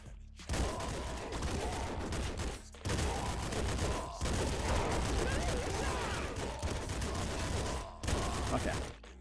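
Rapid bursts of gunfire from the splinter gun in the Nuclear Throne video game, dense crackling volleys in several long stretches separated by brief pauses, loud and up front.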